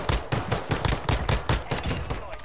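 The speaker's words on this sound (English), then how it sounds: "Oh, he had a machine gun." Machine gun fire in a video game, a rapid, rhythmic burst of close, punchy shots lasting a couple of seconds with no pause.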